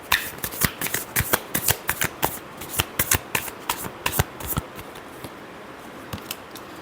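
Tarot cards being shuffled by hand, a rapid series of crisp riffling slaps in an uneven rhythm that thins out toward the end, close and clear with no talking.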